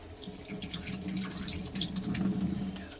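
Tap water runs steadily into a sink while a bay leaf is rinsed under it, a close, moderately quiet splashing stream with small drips and no voices.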